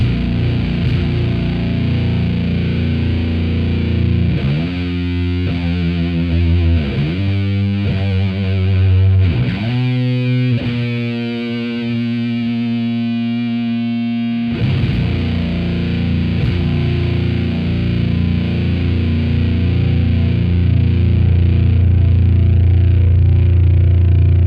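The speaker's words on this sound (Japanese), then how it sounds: "じゃあ最初歪み足すから。" Electric guitar through a Hizumitas fuzz pedal into a SUNN Model T amp, loud saturated distorted chords ringing and sustaining, with a few choppy stabs and a heavy held chord, played alone.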